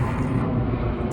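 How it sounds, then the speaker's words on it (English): An airplane passing overhead gives a steady, broad roar that fills the moment without letup, fairly loud and with no talk over it. "As you can hear airplanes"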